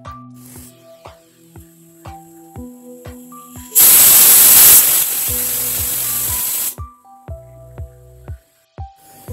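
A pressure cooker cooking rice kheer lets out one loud, sustained whistling hiss of steam lasting about three seconds, close up, with sparse voices and music before and after.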